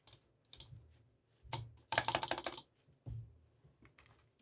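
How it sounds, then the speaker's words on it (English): Bursts of sharp plastic clicking from a small AJAZZ AJ219 wireless gaming mouse, several quick button clicks in clusters separated by short pauses, close and fairly loud. "The clicks on this mouse are quite loud."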